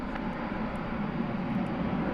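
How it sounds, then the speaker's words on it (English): An American Airlines Airbus A321neo landing at night at Dallas Fort Worth airport, a continuous low jet roar heard steadily at moderate distance without speech. "Watching an Airbus A321neo coming in from Las Vegas, flight 1974, American Airlines."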